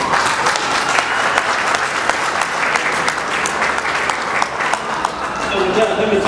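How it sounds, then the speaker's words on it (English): A crowd at a garage dedication ceremony applauds steadily, dense clapping filling the whole stretch at a loud, even level. "Please give them a round of applause."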